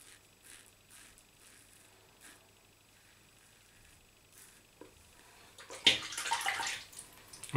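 A single-edge safety razor is rinsed under a running tap: after several seconds of soft, faint handling sounds, a louder burst of splashing water starts near the end and continues close by.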